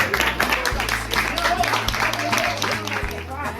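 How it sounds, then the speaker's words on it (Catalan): Audience at a children's book presentation featuring circus performers applauding, a brief spell of clapping and crowd noise beneath a prominent voice and low music. "Ara un aplaudiment per als llibres"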